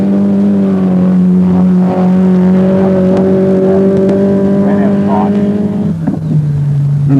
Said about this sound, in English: Little Corolla 1300.